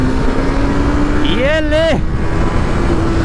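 A motorcycle accelerates hard in gear, the engine rising sharply in pitch and then holding high before dropping, loud and close under steady wind roar, with someone talking briefly.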